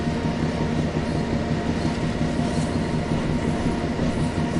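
A train shunting in Train Sim World 2 gives a continuous, loud low rumble of rolling stock, with faint wheel clatter running evenly throughout.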